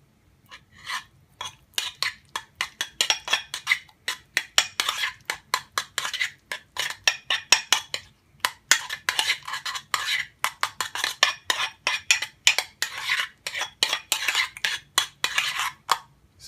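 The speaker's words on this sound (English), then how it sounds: "It wants us to mix the sweet relish, the ketchup, the mayo, and the white vinegar in a bowl" Utensil scraping and clinking steadily against a bowl while sweet relish, ketchup, mayonnaise and white vinegar are mixed into a sauce, rapid rhythmic strokes close up with no talking.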